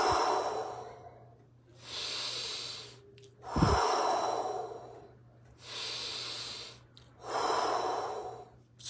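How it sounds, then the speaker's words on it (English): Slow, deep Wim Hof-style breathing during breathwork: four long, airy inhale-exhale waves that rise and fall steadily, close and clear, with a brief sharp snort-like catch in between and no talking. "So what they call this is Wim Hof breaths. So that's the breath work. So we do deep breaths also."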